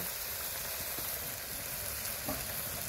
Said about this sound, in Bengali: মশলাটাকে খুব ভালোভাবে কষিয়ে নিব।